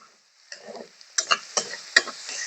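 A large, finely chopped onion hits a pan of cooking dal and vegetables, crackling in short sizzling bursts that settle into a soft, continuous fry.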